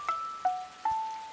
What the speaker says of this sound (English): The rain is dropping through a hole in my roof.